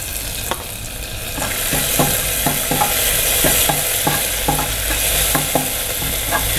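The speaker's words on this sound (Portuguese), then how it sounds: "agora nós vamos refogar os temperos" Minced garlic and homemade seasoning sizzle steadily in olive oil in a pan on the stove, with a spoon stirring and tapping against the pan in a regular rhythm, close and fairly loud.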